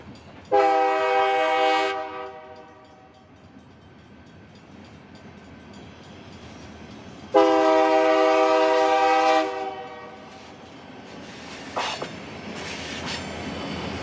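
Local train departing Brea on the Yorba Linda Branch in Orange County: two long, loud harmonic horn blasts separated by a rumbling pause, then a steady rolling rumble with a few sharp squeals and clanks.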